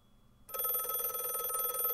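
An electric telephone bell in a TV show starts abruptly and rings continuously, a loud, bright, steady trill alone with no talk.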